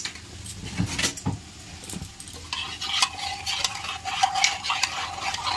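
A spoon stirs saffron into a chicken biryani mixture in a metal pot, with repeated scraping and clinking strokes, a few sharp knocks, and a faint sizzle underneath, close and moderately loud.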